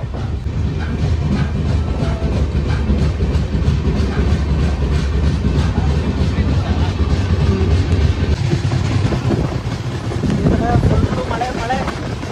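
Sleeper-class passenger train on the Vasco Express from Bengaluru toward Goa: a steady, loud rumble of carriages running on the rails, with clattering wheel noise and wind buffeting throughout, recorded from on board.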